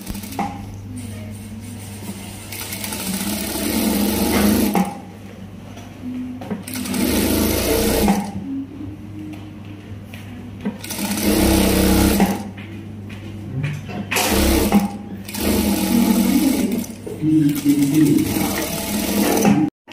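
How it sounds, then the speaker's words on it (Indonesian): A sewing machine stitches the cuff of a men's shirt, running in steady bursts of a few seconds each, separated by short pauses. It is close and loud, with no talk over it. "Oke, baik, kita jahit sekarang."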